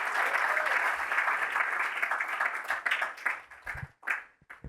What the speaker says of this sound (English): Can we just give Gary Foley another round of applause